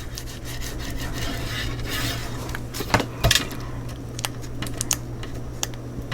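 Firm scraping and rubbing as paper is burnished down onto a mini album cover, a steady gritty friction with a few sharper taps and strokes near the middle, close and alone.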